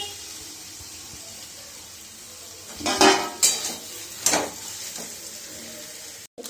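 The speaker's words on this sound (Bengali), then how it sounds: "এটা মিশিয়ে নেব ভালো করে, তাহলে আমার পুরটা রেডি হয়ে যাবে" Egg chop filling being mixed in a bowl with coriander leaves, a spoon scraping and clinking against the sides in a few close bursts after a quiet start.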